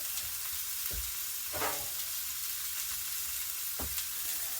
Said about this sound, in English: onions here we're cooking, just to soften them up a little bit